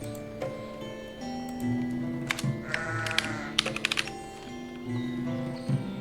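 Sheep in a video game bleat in several drawn-out calls, with light clicking taps scattered between them.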